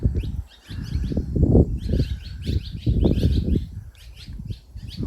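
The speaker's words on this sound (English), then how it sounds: "Oh, those are birds." Small birds chirp and tweet in quick bursts at a cave entrance at Caverns of Sonora, Texas, with soft fluttering of wings beneath the calls. The birds sound fairly near, the calls come in irregular clusters, and no one speaks.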